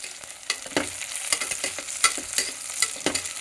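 Tomatoes and mint fry in a pan in a home kitchen, making a steady close sizzle with repeated crackling pops and light stirring scrapes throughout.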